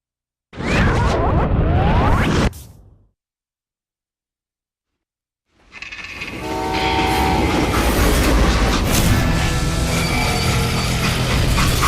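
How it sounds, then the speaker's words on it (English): A steam-era freight train in the Wild West video game Call of Juarez Gunslinger, a loud close burst of rolling wheels and horn, a sudden silence, then a sustained roaring rattle of wheels on track with clanks and whooshes. "They stopped this train in the first place."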